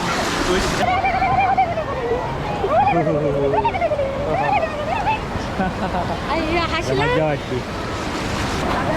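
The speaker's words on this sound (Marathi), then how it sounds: "लाटा पण अशा मोठ्या मोठ्या येतात" Loud ocean waves wash and roar continuously on Varsoli beach, Alibag, with wind gusting; people talk over the surf.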